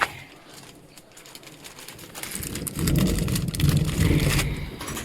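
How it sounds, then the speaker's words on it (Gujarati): Rain falls steadily outdoors beside a cooking hearth, with a low rumble of thunder swelling through the second half and staying loud to the end. "અને વરસાદ તો જો ગાજે"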